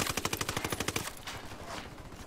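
Rapid automatic gunfire in Ghost Recon Wildlands, aimed at the tires of a convoy: a fast burst of about a dozen sharp shots that stops after a second, leaving a fading echo and rumble.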